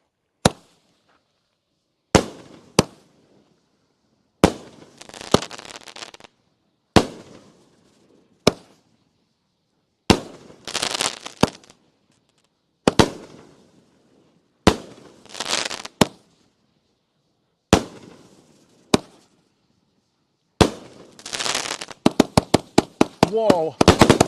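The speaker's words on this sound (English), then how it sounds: "Is it my new favorite firework?" A fireworks cake fires a string of bursts at a bonfire night display: sharp cracks, each followed by crackling, repeating about every two seconds, ending in a rapid volley of pops.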